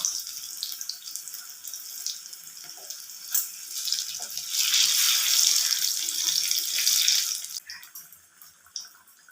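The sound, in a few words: chilli bajji frying in oil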